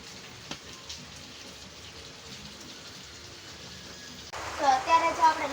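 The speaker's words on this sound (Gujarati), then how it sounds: "બહાર એટલો બધો વરસાદ છે કે અત્યારે હું બોલું એ પણ નહીં સંભળાય કદાચ" Heavy rain pours outside a home kitchen where dough is being kneaded, a steady broadband hiss throughout that swells louder near the end, with a faint voice in the background.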